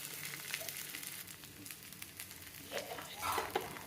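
Garlic, curry leaves, tomato and chilli fry in a pan, a quiet sizzle broken by occasional stirring scrapes and clatters.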